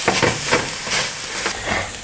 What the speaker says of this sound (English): And then we're just going to fry this off quickly.